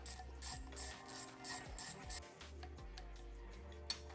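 A torque wrench ratchets in a series of quick clicking pulls while bearing retainers are tightened on a KTM two-piece engine case, the close mechanical clicks coming in short bursts with brief pauses between.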